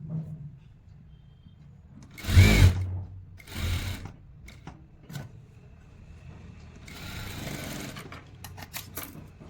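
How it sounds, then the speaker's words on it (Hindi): Several short bursts of a sewing machine stitching pant fabric, the loudest near the start, then fainter intermittent runs over a quiet background. "यहाँ से इसे ऐसे लाके बाहर निकालते हुए स्टिच करना है।"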